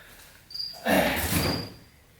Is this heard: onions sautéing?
no